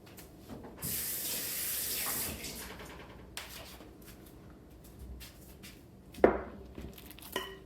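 Tap water running briefly over hands at a kitchen sink while making Dutch oven artisan bread, a steady hiss of flow for about a second, then quiet handling noises and a few light knocks nearby.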